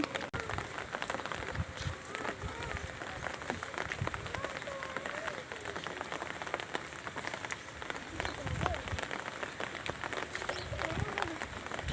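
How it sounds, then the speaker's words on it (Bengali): Rain falling on a rooftop garden, a dense, steady patter of drops hitting surfaces with occasional louder splashes, continuous from start to finish. "যেহেতু বৃষ্টি হচ্ছে সহজেই এই সবজির ছোলাগুলো পচে যাবে"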